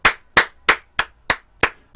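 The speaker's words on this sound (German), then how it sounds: "Ein Applaus für Sie." Single pair of hands clapping slowly and evenly, seven sharp, loud claps at a steady rhythm close by, with no voices.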